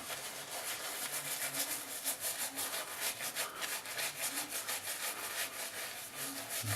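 Shaving lather is worked by hand into a long beard, a close, continuous rhythmic rubbing and bristly scratching that pulses steadily throughout.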